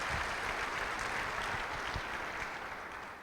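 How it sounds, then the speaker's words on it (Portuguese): A church congregation applauds during a family worship service, a dense, even roar of clapping that holds steady for a few seconds and fades slightly toward the end. "Dê aí um aplauso ao Senhor."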